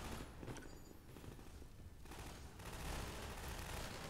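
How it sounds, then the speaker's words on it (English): Rapid automatic machine gun fire from a first-person shooter, Half-Life 2, a dense continuous rattle of close, loud bursts lasting throughout with booming impacts mixed in. "I fucking love this machine gun."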